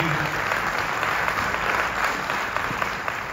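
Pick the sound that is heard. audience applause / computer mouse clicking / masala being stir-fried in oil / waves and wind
audience applause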